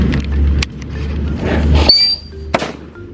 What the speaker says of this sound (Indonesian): mercon happy flower yang ukurannya lumayan agak kecil, tapi meledosnya banter